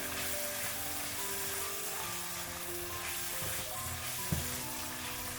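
Green beans tossed into a wok of tomatoes cooked down to juice, giving a continuous close sizzle of stir-frying with faint scraping of the spatula and one brief knock near the end.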